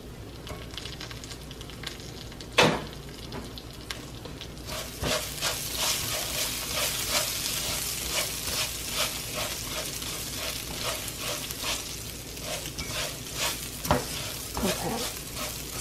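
Rice toasting in a hot pan sizzles steadily while a utensil stirs it, giving repeated scraping strokes after a sharp clatter near the start, close and fairly quiet with no talk.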